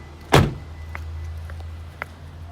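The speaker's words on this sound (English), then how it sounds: "I'll just now open the bonnet, show you underneath there" A Toyota Prado Kakadu's bonnet being opened, one sharp loud clunk of the release near the start, then a steady low engine-bay hum with a few faint clicks and taps.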